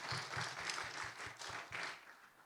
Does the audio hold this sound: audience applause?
yes